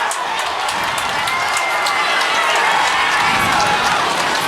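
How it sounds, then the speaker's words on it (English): Spectators at a varsity high school football game, Holliston against Lincoln-Sudbury, cheer and whoop in a loud, steady wash of crowd noise that holds throughout. "Crowd whooping it up."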